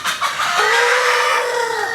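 A loud rooster call rings out alone, a rising, drawn-out crowing cry lasting a couple of seconds, close to the microphone.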